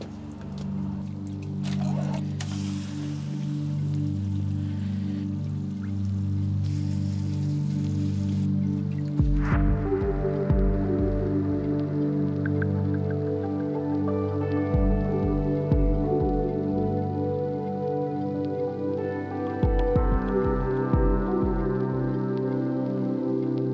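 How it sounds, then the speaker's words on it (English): Water poured over a freshly repotted Nagasaki crab apple bonsai, with steady trickling, dripping and splashing into the soil over a constant bed of background music. "all that's left to do now is to give this tree a water."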